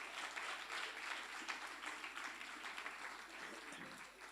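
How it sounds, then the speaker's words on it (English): A round of applause at a spring lecture: an even, faint wash of clapping from a seated audience, steady throughout with a low voice briefly near the end. "applause"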